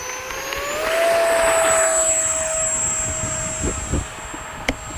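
Small RC F-86 Sabre jet model taking off with takeoff flaps set, its ducted-fan whine rising and holding at a steady high pitch as it climbs away, loud and close with no talk.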